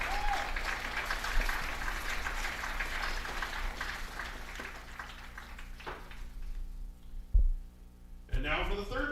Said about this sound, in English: We could have another round of applause here for the 2004 Wapahani Raiders.